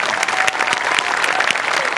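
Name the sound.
loud applause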